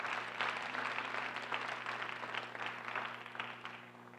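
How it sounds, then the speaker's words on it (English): An audience applauds at a Martin Luther King commemorative lecture: a steady wash of many hands clapping that holds evenly and then tapers slightly at the end, with no speech over it. "Let's give all of those organizations also a hearty cheer."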